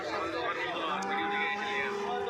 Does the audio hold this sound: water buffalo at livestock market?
yes